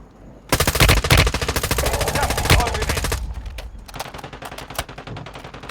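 Loud automatic weapon fire in Call of Duty Warzone, a long rapid burst of close shots lasting a few seconds, then scattered single shots trailing off, with a voice calling out between them.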